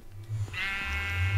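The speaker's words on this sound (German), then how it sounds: "Oh, wir haben Schafe." Sheep bleating in the Minecraft video game, a few short game-sound bleats close and clear over a low background hum.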